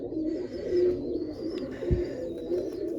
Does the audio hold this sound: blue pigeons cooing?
yes